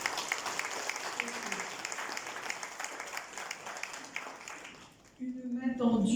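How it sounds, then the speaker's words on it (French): Audience applause at a book launch, a steady moderate patter of many hands that fades out near the end before a voice starts speaking. "Et j'ai envie de t'applaudir"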